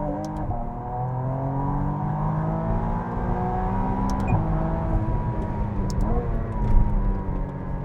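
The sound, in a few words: McLaren Artura Spider accelerating hard in track mode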